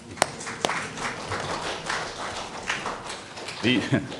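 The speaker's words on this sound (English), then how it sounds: "that's worth clapping" Scattered applause from a modest audience at a city council meeting, soft irregular claps over room murmur, with a voice briefly heard near the end.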